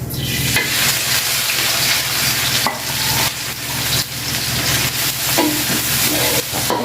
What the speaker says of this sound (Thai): น้ำมัน เริ่มร้อนนะครับ เราก็ใส่พริกลงไปนะผัด